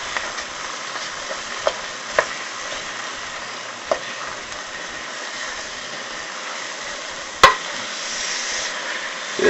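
Ingredients are stirred in a sizzling gumbo pot, a continuous hiss of frying broken by a few sharp knocks of the spoon against the pot, one loud clack near the end.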